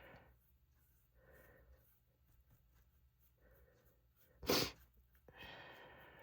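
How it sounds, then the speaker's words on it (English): A single sharp, close sneeze bursts out against a quiet room with faint breathing and brush or paper rustles before it, followed by a sniffling snort. "I was sneezing and now my nose is running"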